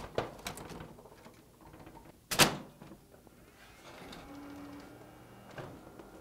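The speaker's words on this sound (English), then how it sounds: "now we'll drop the top cover to make sure that the toner cartridge properly registers with the printer" Top cover of an Oki C920wt white toner printer being dropped shut over a new cyan toner cartridge, a single sharp close thud followed by faint plastic rattles and quiet handling sounds.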